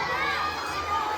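Children at a school awards assembly for third to fifth graders make a steady, loud crowd roar of shouting and cheering that fills the hall without pause.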